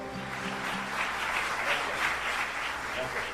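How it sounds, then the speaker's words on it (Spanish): A congregation applauding at a church service, sustained clapping with a voice or sustained tones underneath, fairly loud and close. "Fuerte ese aplauso al Señor"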